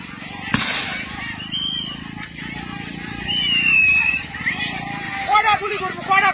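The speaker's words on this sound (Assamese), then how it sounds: "চাওক আপোনালোকে, গুলি চালনা কৰি আছে" A single sharp gunshot cracks loudly near the start during an eviction in Goalpara, followed by a crowd shouting and murmuring over steady background babble.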